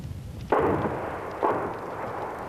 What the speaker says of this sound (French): Juste le son du canon